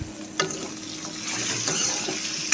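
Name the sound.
stirring pork with onion and green chili in a pan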